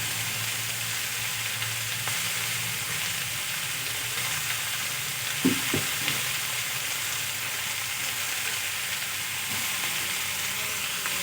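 Chopped onions and green chillies fry with leftover rice and vegetables in a pan, a steady broadband sizzle throughout with a couple of brief stirring knocks near the middle.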